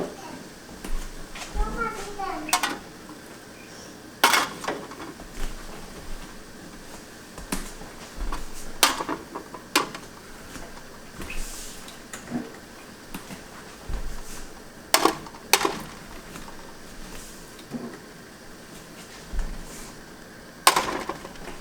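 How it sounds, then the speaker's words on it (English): Glass canning jars of Great Northern beans clink and knock as they are set one by one into a canner rack, sharp scattered taps with short pauses between, close and fairly loud against a faint steady background. "Okay, so all the jars are loaded up"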